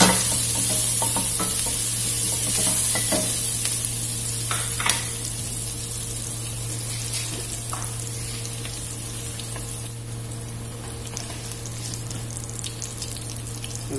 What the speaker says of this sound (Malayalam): ഇഞ്ചിയും വെളുത്തുള്ളിയും നന്നായിട്ടൊന്ന് ഫ്രൈ ചെയ്യുക